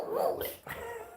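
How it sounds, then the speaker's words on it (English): A dog lets out a hoarse, raspy bark, a short rough burst close by, followed by a second scratchier yelp. "raspiest bark I've ever heard in my life"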